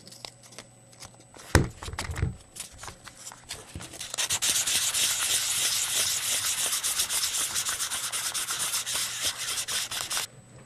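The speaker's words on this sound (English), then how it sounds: "now we're ready to do some polishing" Sandpaper rubs on a plastic Megaminx puzzle. A few sharp knocks come first, then steady, close, rapid back-and-forth sanding strokes run for about six seconds before stopping.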